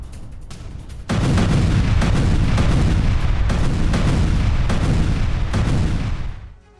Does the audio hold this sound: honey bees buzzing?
no